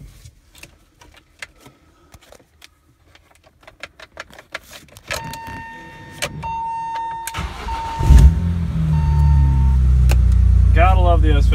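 A car with a BMW S54 engine, left unstarted for months in a garage, gets a cold start: clicks and key sounds, then a chime and the starter cranking, and the engine catches into a loud, steady idle with a voice briefly heard.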